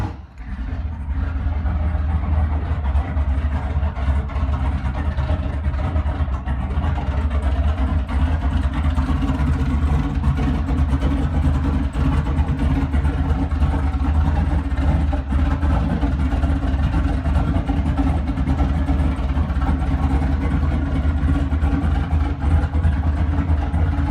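A turbocharged LS V8 car engine runs continuously and loudly up close for over twenty seconds, a dense rumbling drone with rising and falling revs.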